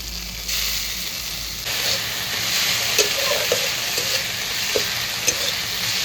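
Fried onions with ginger and garlic paste sizzle in a pan for a pumpkin and fish-head curry, a steady close frying hiss with scraping stirs and small clinks of a spoon, no talk.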